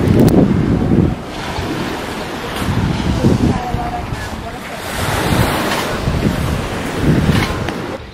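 Ocean waves rolling onto a beach in southern Sicily, a steady wash of surf with swells rising and falling every couple of seconds, mixed with gusty wind noise on the microphone.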